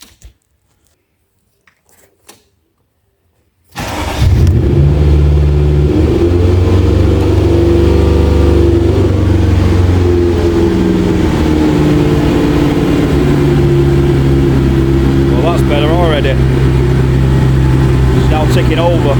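After a few seconds of near silence, a Ferrari engine cranks and catches, then settles into a steady, loud, slightly fast idle that runs on evenly.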